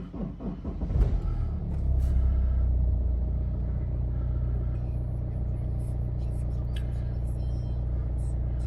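A 2011 BMW 320d M Sport E90 diesel cranks briefly and catches, then settles into a steady, low, rumbling idle that carries on close and even to the end.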